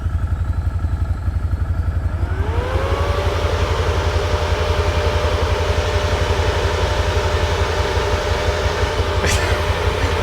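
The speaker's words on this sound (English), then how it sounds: "we're going to turn the fan on, see if it works" An overhead Kemimoto RGB fan inside a CFMoto ZForce 800 Trail side-by-side spins up partway through and settles into a steady whine over the deep, continuous rumble of the idling engine.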